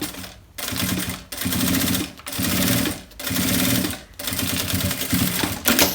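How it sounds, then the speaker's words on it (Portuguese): A sewing machine stitches the closing seam on a handmade leather wallet with raw, unfinished edges, running in about five close, steady bursts separated by brief pauses. "agora eu passo essa costura aqui fechando"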